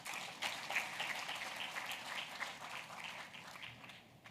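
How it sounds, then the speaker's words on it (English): A conference audience gives a sustained round of applause. Many hands clap in a dense, rain-like wash that stays fairly even and moderately distant, then gradually thins out. "May I request that you give ourselves a round of applause."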